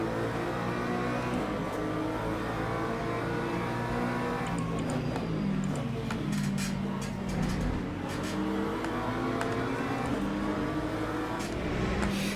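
GT3 race cars launching together at the start of a race at Portimao in the game Le Mans Ultimate: a dense, continuous blend of engines revving and droning, with rising and falling pitch as the field accelerates, loud and steady throughout.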